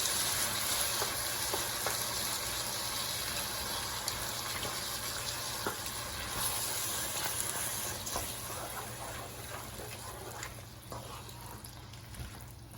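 Zucchini in a creamy cheese sauce is stirred in a pan over lowered heat, giving a faint, continuous soft sizzle with light scraping and sloshing from the spoon throughout.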